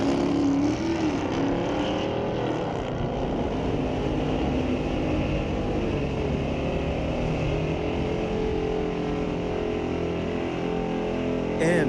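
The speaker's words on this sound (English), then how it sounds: "Corvette taking on a Dodge" A Corvette and a Dodge drag race at Mission Raceway Park, with loud sustained engine roar from the cars droning steadily down the strip throughout, heard from the track side.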